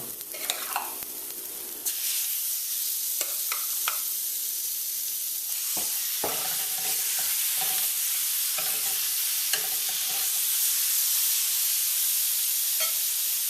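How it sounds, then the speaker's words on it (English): Marinated chicken pieces are stirred in a hot pot with a steady loud sizzle and hiss. Scrapes and clunks of the spoon come through at irregular moments, and no one speaks. "we're going to give it a quick stir"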